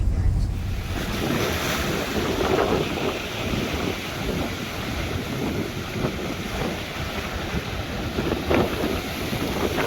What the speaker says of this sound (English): The waves are all over it.